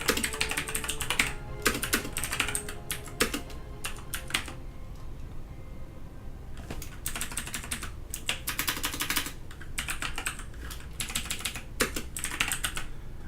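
Quick bursts of typing on a computer keyboard by a StarCraft esports caster, clattering keystrokes in dense runs broken by short pauses, close and fairly loud.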